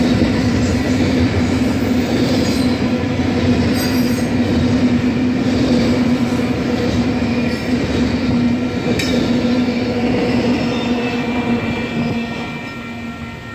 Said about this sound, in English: there goes that intermodal train east towards Colfax